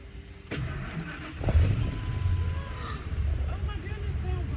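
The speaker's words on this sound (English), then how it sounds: "That's the truck running." A broken-down truck in Alabama cranks and catches, its engine settling into a steady low running rumble with occasional clanks, heard with some background noise and people talking.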